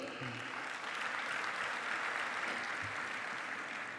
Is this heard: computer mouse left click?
no